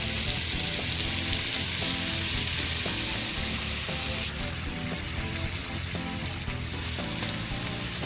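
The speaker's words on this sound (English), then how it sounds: "I've moved the main pork belly block over to the side grill" Pork belly chunks grill on a wood-fired side grill, giving a steady, dense sizzle that runs the whole time, loud and close. The hiss thins out in the middle stretch, and faint clicks sound under it.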